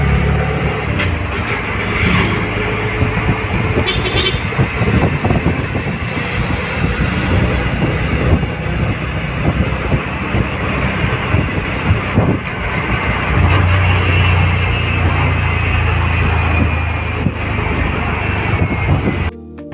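An auto rickshaw ride through traffic, a continuous rattling engine drone mixed with wind buffeting and passing vehicle noise, with no pauses.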